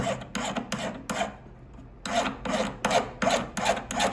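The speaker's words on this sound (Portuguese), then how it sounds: "Com a lima chata. Então eu vou começar limando as laterais" Flat file rasping along the sides of a handmade silver ring, a series of close, rhythmic scraping strokes with a short pause near the middle before the strokes resume at a steady pace.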